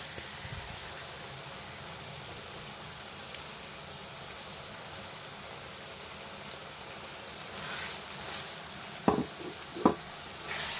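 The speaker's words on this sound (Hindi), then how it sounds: "अब हम इसको हरी चटनी को अच्छे से मिक्स कर लेंगे" Hara keema sizzles steadily in the pan as green coriander chutney is stirred in, a soft continuous frying hiss with a few sharper spoon scrapes near the end and no talking.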